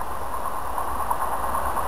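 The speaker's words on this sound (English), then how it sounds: "Fast train" A fast train passing close by, a dense steady rumble and rushing roar that holds evenly across a brief moment with no talk.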